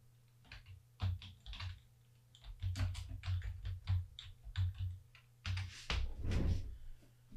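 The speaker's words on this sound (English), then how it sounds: "now I'm typing in prices around there" Typing on a computer keyboard, a steady run of close, crisp keystrokes coming in bursts, with a low constant hum beneath and no talking.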